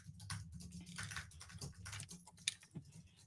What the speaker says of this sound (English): we could just listen to the keyboard